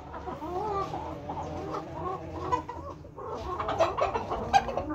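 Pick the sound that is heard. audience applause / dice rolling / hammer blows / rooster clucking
rooster clucking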